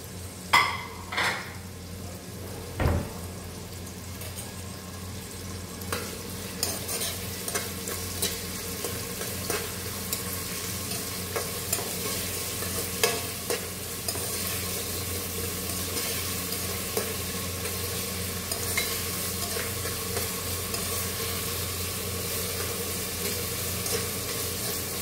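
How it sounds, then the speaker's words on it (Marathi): Onion sautéing in a pan for a soybean pulao, a steady close sizzle with repeated scraping and stirring clinks of a spoon against the pan throughout. "आता आपल्याला कांदा छान लालसर होईपर्यंत परतून घ्यायचा आहे."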